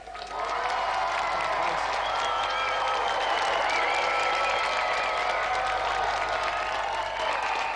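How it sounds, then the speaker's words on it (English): A game show studio audience applauds the winner and finalist, steady loud clapping with some cheering sustained throughout, with a voice briefly audible over it. "So let's have another round of applause for our winner, Dave Goodyear"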